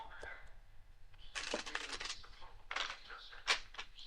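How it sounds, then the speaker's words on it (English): Playing cards being shuffled for a home game of canasta, with quiet papery riffles and flicks coming in short irregular bursts. "He's slow as can be with shuffling cards."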